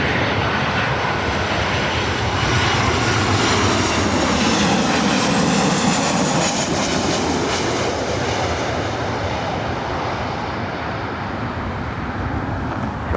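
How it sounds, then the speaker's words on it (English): Alaska Airlines flight 1144, a Boeing 737-900 from Seattle, lands at LAX with a loud, close jet roar whose pitch sweeps downward as it passes, the engine noise filling the whole stretch without voices. "that was Alaska Airlines flight 1144 coming in from Seattle on the 737-900"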